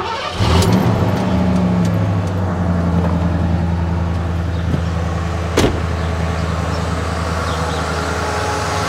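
A 1968 Ford Torino with an added electric fuel pump starts and settles into a steady, close idle, a low engine drone that holds throughout with a brief sharp click partway in.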